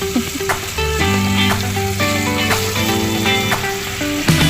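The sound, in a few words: frying Indian mackerel (alumahan) fish in a pan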